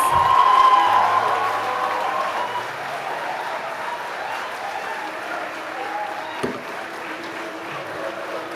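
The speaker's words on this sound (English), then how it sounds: "Can we all give them a huge round of applause?" A graduation ceremony crowd gives a big round of applause with some cheering, loudest at the start and then settling into steady clapping that carries on throughout.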